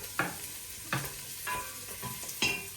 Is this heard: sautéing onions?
yes